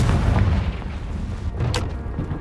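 A loud deep boom from the Confringo blasting curse in Hogwarts Legacy opens the moment, trailing into rumbling debris and a sharp crack shortly after.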